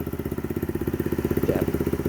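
A small mini-bike engine idles close by with a quick, regular putter of exhaust pulses, steady and fairly loud throughout, with no talking.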